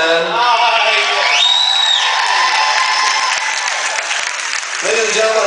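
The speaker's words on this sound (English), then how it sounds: "I suppose you want to do a round of applause for this man." A crowd applauds and whoops for a man in a costume, the clapping dense and continuous throughout, with a voice calling out over it and some tonal sound in the background.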